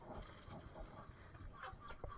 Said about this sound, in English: That darker brown bird there is a Rhode Island Red.